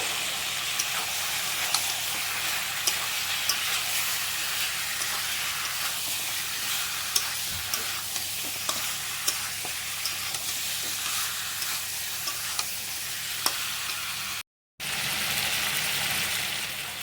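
Meat curry with turmeric and salt being stirred in a pan, a steady broadband sizzle with faint scraping ticks throughout, briefly cut to silence near the end before the sizzle resumes.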